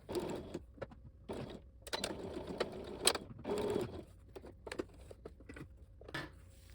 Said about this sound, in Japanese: このゴムの、終わりのところを縫い留めてしまいます。